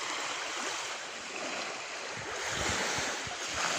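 Ocean waves washing in, a broad hissing surf with a swelling rush toward the end, steady and fairly close, with some wind noise.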